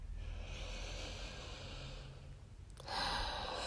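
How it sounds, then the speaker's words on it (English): A long, breathy inhale lasts a few seconds, then a brief pause and a stronger airy exhale, close and steady with no talking. "Take a breath or a drink."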